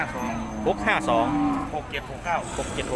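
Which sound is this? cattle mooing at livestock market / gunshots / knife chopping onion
cattle mooing at livestock market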